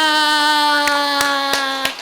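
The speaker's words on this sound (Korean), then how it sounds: "하나님께 우리 영광의 박수 돌립니다." At a Wednesday worship service at a day-care centre, a few slow, evenly spaced claps ring out over a sustained keyboard chord. The claps are sharp and close, about four of them in a steady rhythm.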